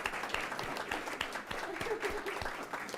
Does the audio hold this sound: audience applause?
yes